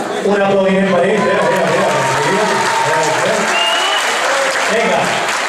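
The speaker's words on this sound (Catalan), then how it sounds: "Un aplaudiment per ells" Steady applause from an audience honoring student athletes at an outdoor school prize ceremony, loud and continuous, with a voice speaking over it.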